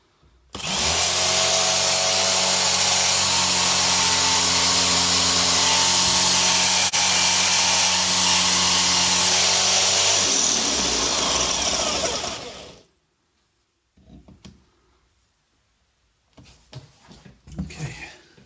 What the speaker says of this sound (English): I want it to drill in fairly well